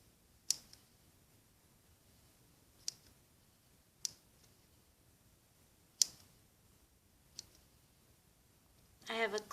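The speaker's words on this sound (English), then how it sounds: "you can take your scissor and snip the bands, the little loops" Scissors snip through small rubber loom bands in several separate crisp clicks spaced a second or two apart, close and quiet, followed by a brief rustle at the end.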